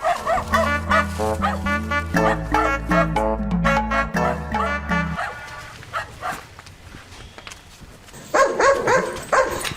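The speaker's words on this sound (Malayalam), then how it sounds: "ഇതെന്താ ഈ നായി ഇങ്ങനെ പരക്കുന്നത്?" A dog barks repeatedly in quick, loud bursts nearby, then goes quieter before a final flurry of yips.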